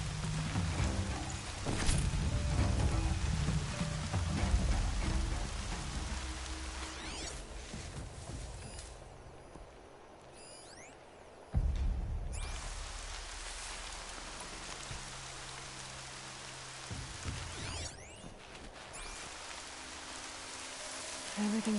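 Steady rain falling in the video game Horizon Zero Dawn, a soft continuous hiss of drops with brief rustling bursts and a sudden louder swell midway, no voices over it.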